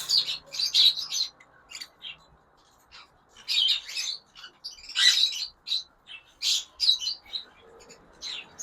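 Pet birds at a breeder's shop chirp and tweet in quick bursts and clusters of bright calls, some near and loud, others softer, with brief pauses between flurries and no talking.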